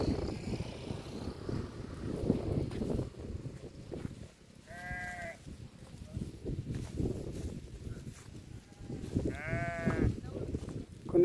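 Sheep bleating on a farm in Unguturu, two clear bleats from separate animals a few seconds apart, heard over steady low rumbling background noise.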